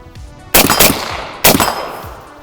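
A suppressed AR rifle, a Silencer Co. Saker 5.56K, fires 5.56 rounds as two loud, sharp reports about a second apart, each trailing off in a metallic ring.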